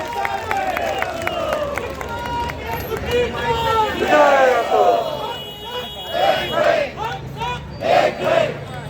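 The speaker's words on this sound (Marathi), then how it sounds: "जरा तुमच्यासाठी जोरदार टाळ्या वाजवा" An audience at a Shivsamarth Pratishthan event in Pune cheers and shouts in loud, swelling bursts, with crowd noise rising and falling in waves; any clapping is buried under the voices.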